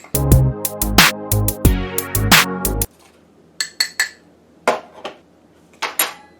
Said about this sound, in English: And you just stir it up.